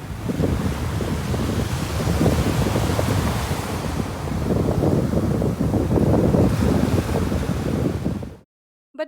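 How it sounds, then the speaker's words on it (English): Sea waves roll and crash continuously onto Marina Beach in Chennai at night, loud and close, mixed with gusty wind buffeting, then cutting to near silence at the end. "the sound of the sea waves crashing against the beach"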